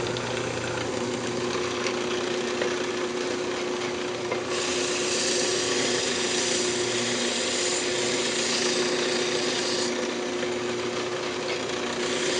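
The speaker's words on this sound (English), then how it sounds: "Then we can just go ahead and sand that." A wooden lidded box spins on a woodturning lathe while being sanded: a steady whirring motor hum carries a continuous gritty rubbing hiss that swells brighter and louder in the middle stretch, with no talking.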